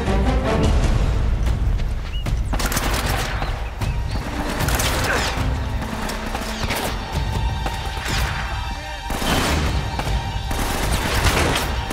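Mounted gun fire in Uncharted: Drake's Fortune, a loud, continuous barrage of rapid shots with crashing impacts layered throughout, dense and unbroken from start to finish.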